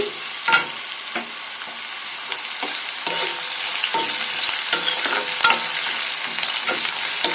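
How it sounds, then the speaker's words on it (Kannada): Green chilies and curry leaves sautéing in a hot pan: a steady close sizzle with sharper crackles, broken by a few clicks and scrapes of stirring, and no voices. "ಹಸಿಮೆಣಸಿನಕಾಯಿ ಮತ್ತು ಕರಿಬೇವನ್ನ ಇಲ್ಲಿ ಸೇರಿಸ್ತಾ ಇದ್ದೀನಿ. ಸ್ವಲ್ಪ ಕಲರ್ ಚೇಂಜ್ ಆಗೋ ತನಕ ಇದನ್ನು ನಾವೇನು ಮಾಡಬೇಕು ಬಾಡಿಸ್ಕೋಬೇಕು."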